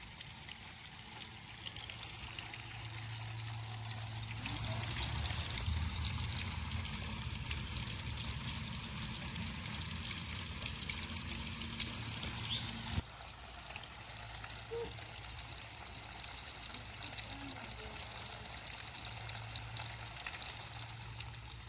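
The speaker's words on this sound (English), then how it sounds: "this is a waterfall and that's a waterfall" An indoor decorative waterfall in a house runs steadily, a continuous soft pouring and trickling wash of water lasting throughout with no voices.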